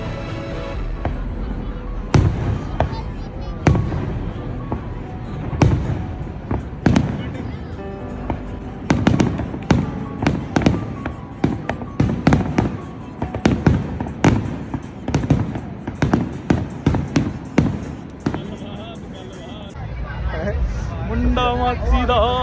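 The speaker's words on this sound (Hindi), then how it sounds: "नायग्रा फॉल्स में रात को होती है बहुत ही खूबसूरत आतिशबाजी" Night fireworks at Niagara Falls, Canada, crackling and booming in irregular bursts, with crowd chatter and voices throughout beneath the explosions.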